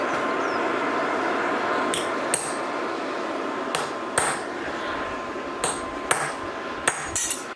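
Hammer blows ring out on hot blacksmith steel as a piece is cut off, with about eight sharp metallic strikes spaced irregularly over a constant workshop roar, probably a forge fire.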